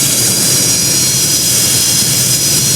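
Steady jet engine whine and broad rushing roar from a video game airliner taxiing to the gate after landing, constant and loud with no pauses.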